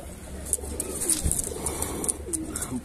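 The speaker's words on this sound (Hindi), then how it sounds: "एक बड़ी साइज का खौरा कबूतर है" Large Indian pigeons in a loft coo softly and steadily, with sharper high chirps and flutters scattered throughout, close by and alone.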